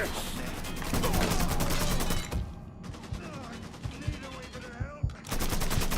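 Mafia 3 gunfights bring loud, rapid automatic gunfire in long bursts, broken by a short pause with scattered single shots and a voice speaking, before the heavy firing starts again.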